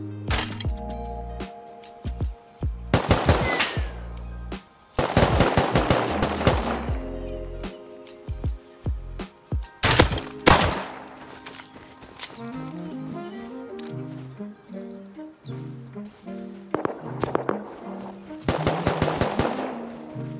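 Gunfire in the survival video game Rust: repeated bursts of rapid automatic shots and single sharp cracks, loud and close, separated by brief gaps, with metallic clinks and game music tones in between.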